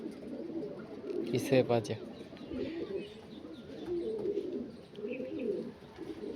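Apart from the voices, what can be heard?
Andhra kalanka pigeons cooing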